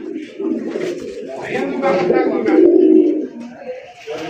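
Pigeons cooing at a pigeon sale give a soft, low, rolling coo that builds through the middle of the clip, close by, with people talking over and around it.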